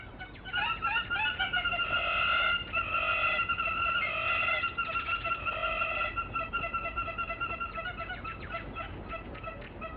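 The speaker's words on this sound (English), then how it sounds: "This is the hammerkop, the lightning bird, the legendary king of Africa's birds." Hammerkop, the African lightning bird, giving a run of rapid, nasal, repeated calls in bursts, fairly close and clear over a quiet outdoor background.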